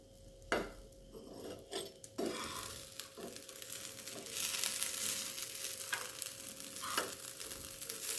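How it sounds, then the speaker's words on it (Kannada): Okra fries in a pan with a steady crackling sizzle, close and moderately loud, broken by a few scraping stirs and clinks of a utensil against the pan. "ಆಮೇಲೆ ಮತ್ತೆ ಫ್ಲಿಪ್ ಮಾಡಿ ಇನ್ನೊಂದು 5 ನಿಮಿಷ ಬೇಯಿಸ್ಕೊಂಡ್ರೆ ಬೆಂಡೆ ಫ್ರೈ ರೆಡಿ."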